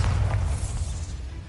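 A Bombarda spell blast in the Hogwarts Legacy video game, a loud deep boom that swells at once and rumbles on for over a second before easing slightly, heard alone.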